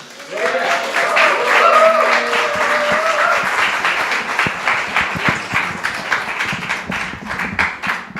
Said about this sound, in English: give a big round of applause to Yebony Hannah